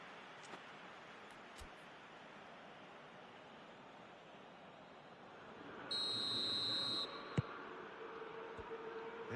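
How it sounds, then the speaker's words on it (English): A referee's whistle starts the second half of a football match: one sustained, loud blast of about a second over steady distant crowd noise, followed by a short sharp knock. "There's the whistle then to start the second half."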